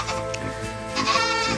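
Goats bleat on a farm, with several quavering, harmonic bleats overlapping one another at close range over the full span, louder toward the end, with no talk.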